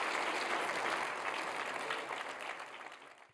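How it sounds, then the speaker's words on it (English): An audience at a fellows induction ceremony breaks into steady, moderately distant applause that holds evenly and then tapers off toward the end. "let's give her a round of applause"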